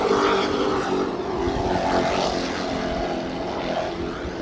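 A powerful engine roars loudly and steadily as a Superboat Unlimited class racing powerboat passes by during the New York Super Boat Grand Prix, its droning pitch shifting slightly over a few seconds.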